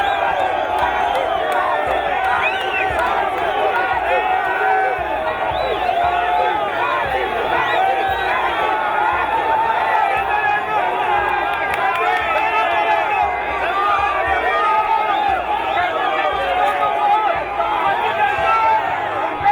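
Crowds of party activists, young and old, greet the head of state outside the airport in Katanga with a steady loud roar of chatter, shouts and cheering that never lets up.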